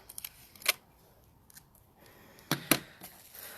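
Tape pulled off and stuck onto a plastic bag, a few sharp close tearing rips and crackles spread across quiet pauses.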